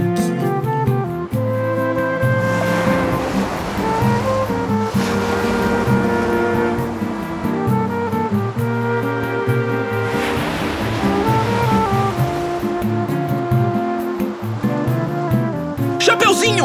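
Ocean surf washes continuously in a seaside scene, a steady rushing wash of waves heard loud under a bed of sustained musical tones throughout.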